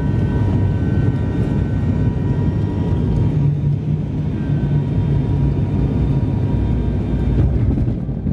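Steady cabin drone of an airplane in flight, a loud continuous broadband rumble with faint steady tones on top, unbroken and with no talk.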